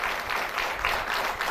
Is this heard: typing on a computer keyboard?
no